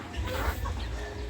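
Chickens cluck softly in a small backyard flock of roosters and hens, a brief burst of a few low clucks close by and at low volume.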